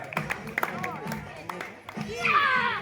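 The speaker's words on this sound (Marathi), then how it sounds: "टाळ्या वाजवा, टाळ्या" Hands clapping at an outdoor children's game of dropping balls into a bucket, several short scattered claps among children's chatter and shouting, with people talking throughout.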